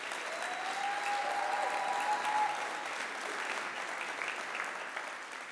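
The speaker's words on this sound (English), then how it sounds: "So let's give a round of applause to these guys." Audience applauding at a 2018 industry conference talk, a steady, dense wash of clapping that holds evenly for several seconds without voices.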